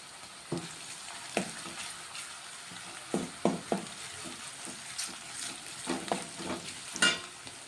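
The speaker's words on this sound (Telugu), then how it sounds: "ఇప్పుడు ఇందులో కొంచెం అల్లం వెల్లుల్లి పేస్ట్ వేసుకుంటాం" Onions frying in a pan with ginger garlic paste just added, a soft sizzle under repeated scraping and stirring clicks, close by with no talk.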